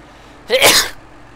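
A single sharp human sneeze bursts out close and loud against a quiet background, lasting about half a second.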